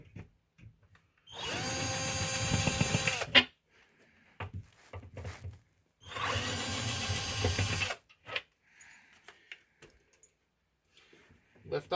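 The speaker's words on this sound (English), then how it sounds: "I'm going to remove these 2 screws here with my electric screwdriver" An electric screwdriver whirs in two steady bursts of a few seconds each, backing screws out of an Arcade1Up arcade cabinet kick plate, close up, with clicks and light handling noises between.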